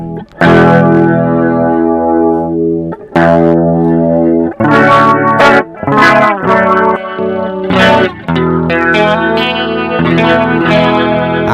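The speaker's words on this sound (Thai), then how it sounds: "คราวนี้เรามาดูพักโรตารี่นะครับ" Electric guitar chords and riffs through a NUX rotary speaker effect pedal, swirling, warbling modulation and light grit, played in short phrases separated by brief pauses.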